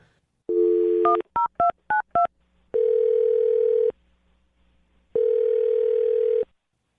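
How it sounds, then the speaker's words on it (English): A quick run of telephone keypad tones is followed by two long ringing tones with a pause between them. No one speaks. "I'm going to dial her phone number right now."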